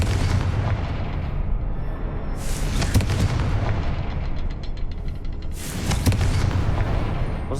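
Booming blasts of the Confringo fire spell in Hogwarts Legacy, two strong explosive bursts a few seconds apart over continuous rumbling battle noise.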